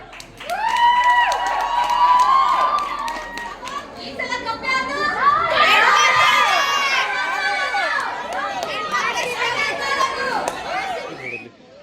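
A crowd at a community sports festival in Coorg claps and cheers for the prize winners, lively applause mixed with chatter and children's voices, with loud bursts rising and falling under close-by talk.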